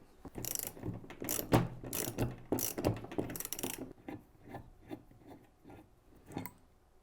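Wrench work loosening the main bolt on a brake bracket of a Can-Am Spyder F3, a run of close metallic ratcheting clicks and scrapes, busy at first and then thinning into sparse, separate clicks.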